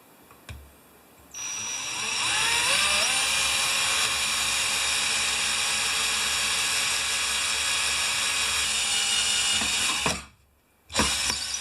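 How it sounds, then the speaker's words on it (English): A power drill whines loudly and steadily for several seconds, pitch shifting slightly as it bites in, then stops briefly before starting again. "I will drill a hole in this and then put that in here."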